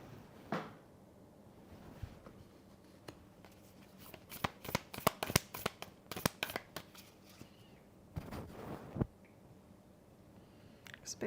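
Tarot cards are shuffled and drawn in a live psychic reading: scattered papery slides and flicks, then a quick burst of crisp riffling near the middle and another short flurry later, close and quiet with no talk.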